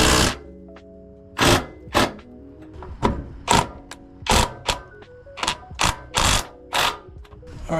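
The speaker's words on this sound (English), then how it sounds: "we're gonna tighten down this bolt right here" Hand ratchet tightening a running board bolt on a 2024 Toyota 4Runner, about a dozen sharp, close clicking bursts in an irregular rhythm with faint mechanical hum beneath.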